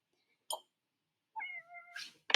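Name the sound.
cat meowing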